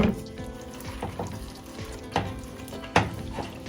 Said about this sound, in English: Keep stirring that in there.